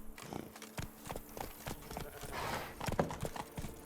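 Hooves of Roach, Geralt's horse in the Witcher 3: Blood and Wine video game, clip-clop in a steady series of sharp knocks as she moves off, with quiet background ambience.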